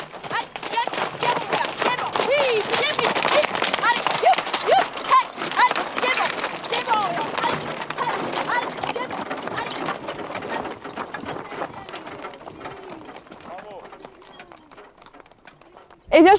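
Horse-drawn team from the Tarn clip-clops along an outdoor route, steady rhythmic hoofbeats close by at a walking pace, with people talking over them.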